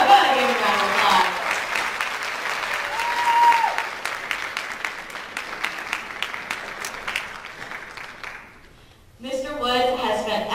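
An audience at a high school winter concert applauds a music teacher. Brisk clapping swells, thins out and fades, with a voice talking at the start and again at the end.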